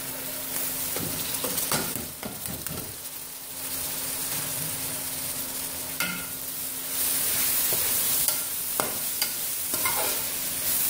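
Fenugreek leaves, dried red chillies and dried coriander frying in ghee for methi chana dal, a close, continuous sizzle with intermittent spoon-stirring scrapes and a louder hiss in the second half.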